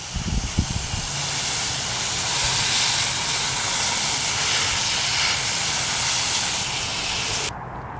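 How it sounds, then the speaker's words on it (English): Steady broadband spray hiss of a garden hose nozzle watering plants in a backyard food forest, running continuously for several seconds, fairly close, then cutting off near the end. "We'll just water this in real good."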